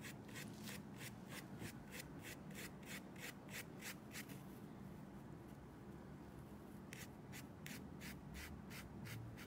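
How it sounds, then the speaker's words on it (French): Paintbrush laying on paint in long, rhythmic strokes, a steady series of soft brushing rubs close by, pausing briefly midway before resuming. "on brosse notre couleur en faisant quand même des grands traits"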